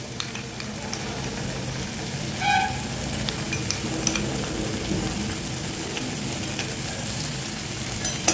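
Yogurt and mustard paste being stirred into tomato masala frying in a pan for Bengali doi maach, a steady close sizzle with scraping stir strokes throughout, no voices.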